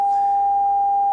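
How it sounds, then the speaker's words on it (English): A steady, pure sine-wave tone as heard for CW Morse code in a receiver, one continuous loud note lasting about a second with no breaks. "mostly what you're going to hear in your receiver when you're listening to CW is a sine wave"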